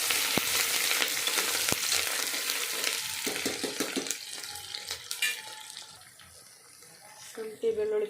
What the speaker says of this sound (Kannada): ಜೀರಿಗೆ, ಕಟ್ ಮಾಡಿರೋ ಈರುಳ್ಳಿ, ಕರಿಬೇವು ಹಾಕಿದ್ದೀನಿ